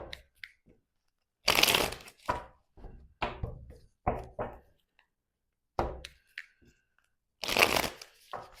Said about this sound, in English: we're gonna take out some oracle cards to see